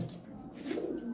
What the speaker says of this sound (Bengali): অনেক কবুতর আছে, নতুন নতুন কবুতর আছে